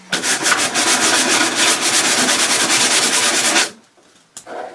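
Steady, rhythmic hand sanding on the wood of a 1970s cabinet, close and loud, with quick back-and-forth strokes that run continuously for several seconds before stopping, then one short final stroke.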